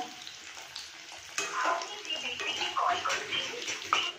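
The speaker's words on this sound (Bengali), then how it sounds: "একটু লাল লাল করে ভেজে নেবো" Semolina pakora frying in hot oil, a steady crackling sizzle that jumps louder partway through and keeps bubbling and popping up close.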